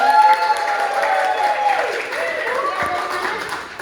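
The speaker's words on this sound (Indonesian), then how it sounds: "Mana dong tepuk tangan untuk saya?" Applause from an audience at a local-wisdom speech competition, a broad wash of clapping with a mixed crowd murmur and faint tonal sounds over it, easing slightly toward the end.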